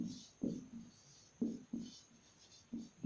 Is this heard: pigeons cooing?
no